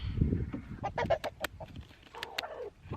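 Chickens, a rooster among them, cluck and squawk while being handled during farm chores: short, close bursts of clucking that come in irregular spurts.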